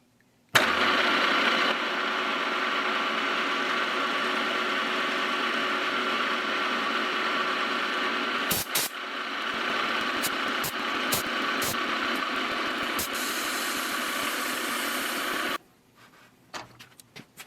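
A Case 170B excavator diesel engine starts and runs steadily at 1180 RPM, a loud, continuous mid-pitched drone with a few brief clanks over it, then cuts off abruptly near the end.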